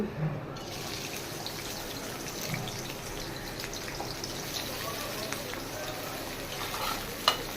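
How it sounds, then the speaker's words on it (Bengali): Drained onions frying in oil until browned for birista, a soft continuous sizzle and stirring under a quiet background, with a brief clatter at the end. "সুন্দর করে এটাকে বেরেস্তা করে নেব"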